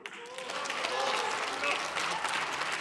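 Applause from an audience after a political speech, a steady wash of clapping that fills the clip at moderate distance.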